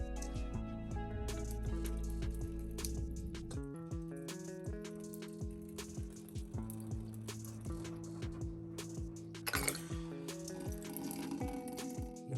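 Water squirting from a squeezed plastic nasal rinse bottle, a soft continuous liquid trickle with faint rattles and drips, quiet and close, over a steady background tone.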